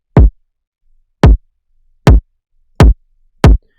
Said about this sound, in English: So it almost makes it sound more clicky when we turn it to the right.